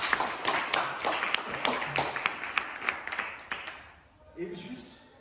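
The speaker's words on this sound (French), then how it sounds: "s'il vous plaît, un applaudissement pour ma chérie" Scattered audience clapping at a French stand-up comedy show, sharp individual claps in an uneven rhythm that thin out and stop, followed by a brief voice.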